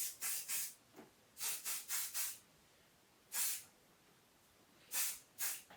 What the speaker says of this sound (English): The hairspray I'm using here, I'm not going to show you